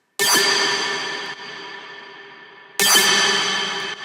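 A bright, buzzy Moombahton synth lead with the fat bass removed, struck as two loud sustained chords that each decay slowly, the second entering near the three-second mark, alone with no voice.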